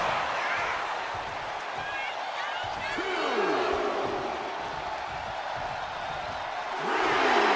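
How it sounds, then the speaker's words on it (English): Arena crowd noise in WWE 2K25 during an Undertaker versus The Rock match, a steady loud roar of cheering throughout, swelling near the end, with a commentator talking over it. "The crowd is fired up."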